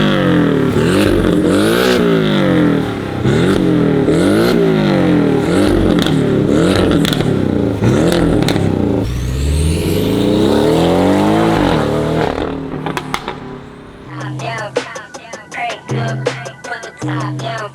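An Alfa Romeo Quadrifoglio's exhaust revs hard again and again in loud, rising and falling bursts, ending with sharp, crackling blips close by, in an exhaust shop.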